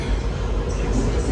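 A DC Metro train pulling into Largo station, a steady loud rumble of wheels and motors filling the short moment without pause.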